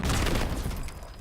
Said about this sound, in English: Are the explosions from other players blowing things up or faked by the game?